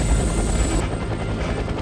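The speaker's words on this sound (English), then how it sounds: "Helicopter? Where do they buy these things?" Helicopter in the Wii game Batman: The Brave and the Bold, a loud, continuous rotor thrum with dense low chopping that holds steady throughout, alone without voices.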